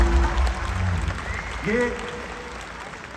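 An audience at a comedy show in the USA applauds the musicians with a steady wash of clapping, and a voice speaks over it at the start and in the middle.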